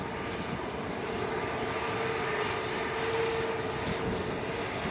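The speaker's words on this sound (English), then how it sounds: "Airbus A321 Neo. Here we go." An Airbus A321neo airliner at Manchester Airport gives off a steady, moderately distant engine rumble that holds evenly for several seconds with no talking.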